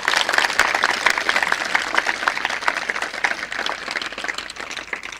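An audience at a gurukul gathering applauds, a dense sustained wash of many hands clapping at moderate loudness with no speech over it.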